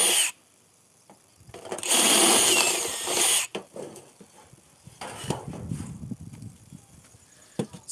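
A power drill whines loudly for about two seconds, then stops, followed by scraping, clanking tool handling and quieter intermittent noises nearby.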